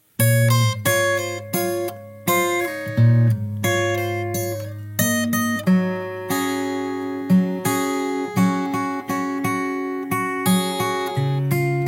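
Four bars of a post-chorus played on guitar, a rhythmic run of plucked, sustained chords and notes, close and clear with steady repeated attacks and no talking.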